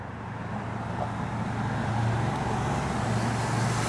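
A 1965 Chevrolet Impala SS with a 410 rear gear and overdrive cruises down the road, giving a steady, fairly loud low engine drone and road rumble that holds even throughout, with no talking.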